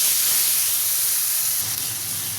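Ground spice paste for a Tamil fish curry (meen kuzhambu with siakap fish) hits a hot pan with shallots, garlic and green chillies, giving a steady, close, loud sizzling hiss throughout.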